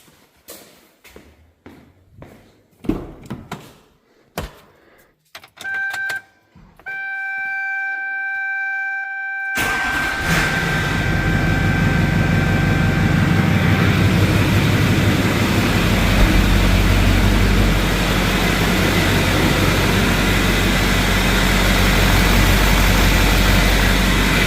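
An 01-16 Duramax diesel truck engine sits through clicks and a held dashboard chime after a fuel filter change, then cranks, catches around ten seconds in and settles into a loud, steady, low diesel idle.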